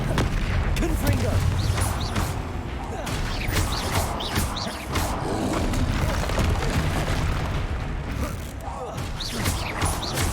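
Confringo explosive spell blasts from Hogwarts Legacy, loud booming crashes layered among other spell effects and rumbling combat noise, dense and continuous.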